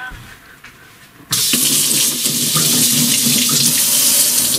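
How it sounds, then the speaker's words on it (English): A tap turns on abruptly and water gushes steadily into a sink for handwashing, loud and close, after a quiet opening moment. "when I want to wash my hand"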